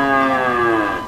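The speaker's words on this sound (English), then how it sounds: "Buffalo." A toy buffalo gives one long, loud, steady moo with a harmonic tone that holds for about a second, close up and alone.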